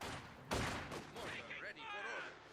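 Grenade blasts in the Company of Heroes 2 strategy game, a sharp loud burst followed by scattered battle noise, heard under a commentator's voice.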